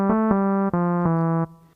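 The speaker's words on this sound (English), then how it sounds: "I used the sound from bank 1, number 30, the D50 Saw, and it sounds like this" Roland MC-303 D50 Saw patch from bank 1, number 30, playing four sustained synth chords in sequence, bright buzzy sawtooth tones with sharp attacks and short gaps, ending in a brief release tail.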